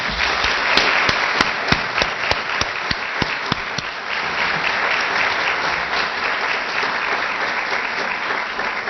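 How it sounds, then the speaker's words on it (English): An audience at a university leadership awards ceremony applauds the honorees, a dense, sustained wash of clapping with a few sharp individual claps standing out near the start. "Let's give them a round of applause, folks."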